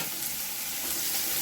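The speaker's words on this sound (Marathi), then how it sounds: "आता कांदा टाकून घेऊ." Chopped onion hits hot oil with cumin seeds for baingan bharta, giving a steady, close, continuous sizzle and crackle throughout.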